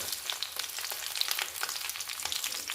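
A handful of chopped garlic sizzles and crackles in a hot pan for Kerala-style beef pickle, with steady frying noise and small pops as it is stirred, no voices.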